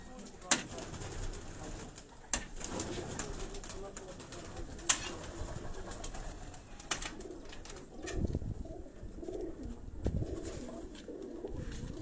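Pigeons coo and shuffle close by at a pigeon-flying event in Pakistan, with a few sharp clacks and a busy murmur underneath, while people talk in the background.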